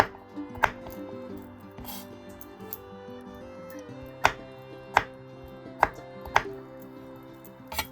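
A knife chops cucumber on a cutting board in a home kitchen, with about six sharp, irregularly spaced knocks that sound close and clear over a steady tonal background.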